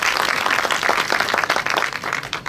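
An audience claps for a casting director at an acting workshop in Eswatini, a dense and steady burst of applause that lasts throughout with no voices over it.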